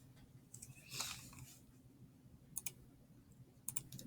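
Answer typed on a computer keyboard: a few quiet, scattered clicks and short bursts of key taps over low room hum.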